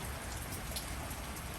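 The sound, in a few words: rain falling in Los Angeles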